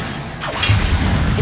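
In Hogwarts Legacy, an Expelliarmus disarming spell is cast with a rising whoosh, then a bright, shattering burst that rings on briefly. It is loud and close.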